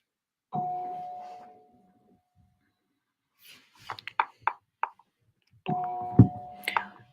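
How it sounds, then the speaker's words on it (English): Two-tone doorbell chime rings out clearly indoors, then a few sharp knocks or taps, followed by a second ding-dong ring; no talking over it. "I think this is the first time I've heard the doorbell."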